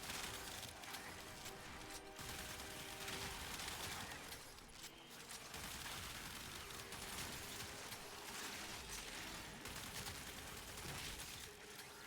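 Rapid gunfire from the Hystrix Prime in the video game Warframe, a steady dense stream of crackling shots and impacts running the whole time over busy game effects and music.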